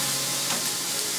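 Steady, dense sizzling of meat searing in a hot pan, close and continuous with no pauses or talking.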